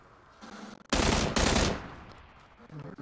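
In PUBG, a burst of rapid automatic gunfire rings out loud and near, two quick volleys lasting about a second, then fades into quiet background.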